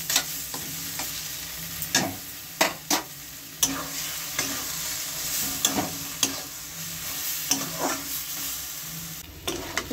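Hilsa fish head cooking down with taro leaves in a pan, stirred with repeated sharp spatula scrapes and knocks over a steady low sizzle, close and fairly quiet, with no talking.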